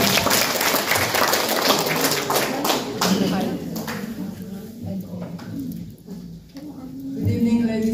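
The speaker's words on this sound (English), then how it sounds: "a round of applause for everything." Audience applause at the Filipino Alliance inauguration and general assembly in Yerevan, Armenia: a dense, steady round of clapping from a crowd that fades somewhat toward the end, with scattered voices mixed in.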